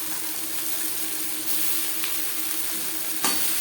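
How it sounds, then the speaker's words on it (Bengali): Onion and finely chopped data greens with green chillies stir-frying in a pan, a loud steady hiss of sizzling oil with a couple of brief scraping stirs. "পেঁয়াজের সাথে ডাঁটার শাক বেশ ভালো করে মিক্স করে দেবো"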